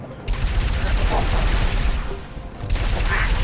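Gunfire in Halo 3, a loud, dense stretch of rapid shots running almost unbroken from start to finish, with a short dip in the middle before it swells again.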